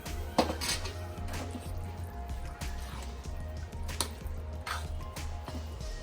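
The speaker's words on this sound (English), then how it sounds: "Let's just stir it in" Thick mushroom risotto with freshly ground pepper is stirred in a pot. Soft, wet squelching and repeated scraping and clinking run steadily for several seconds over a low, constant background hum.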